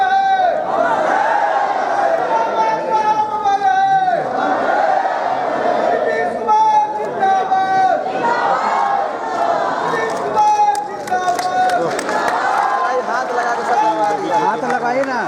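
A dense crowd presses forward at a Dr. Bhim Rao Ambedkar birth anniversary ceremony in S.K.M. Hall, with loud babble, shouting and a steady roar of many voices, and an amplified voice speaking throughout.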